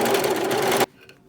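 A serger sews a seam on stretch fabric with a fast, loud, continuous mechanical whirr close by, then stops abruptly, leaving a faint quiet tail.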